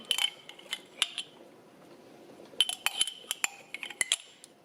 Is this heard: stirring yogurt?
yes